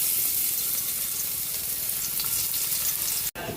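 Garlic frying in cooking oil in a pan for ginisang ampalaya, a steady bright sizzle with faint crackles throughout, close and continuous, cut by a brief dropout near the end.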